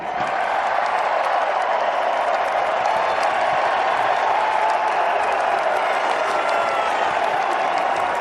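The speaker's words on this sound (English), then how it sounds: "I don't think the 12s will ever stop cheering." Seattle Seahawks fans cheer and applaud a Super Bowl win, a dense, continuous roar of clapping and crowd noise at even loudness throughout.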